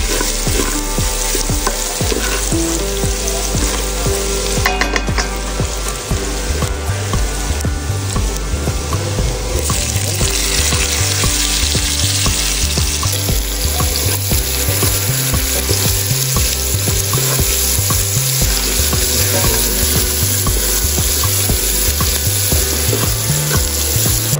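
Garlic and onions fry and get stirred in rendered meat fat, giving a loud, continuous sizzle with scraping stir sounds, backed throughout by a rhythmic musical bass line.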